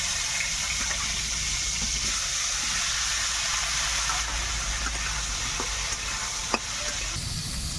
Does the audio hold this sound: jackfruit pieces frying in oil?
yes